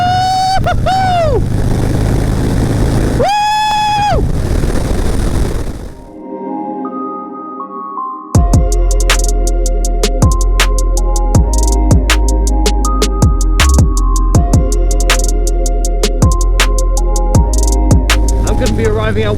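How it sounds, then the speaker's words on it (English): A motorcycle fitted with a Bassani exhaust rides along an empty road, loud and close, its deep engine note rising and shifting through gears, with a voice speaking over it briefly. "Oh, that Bassani sounds so good."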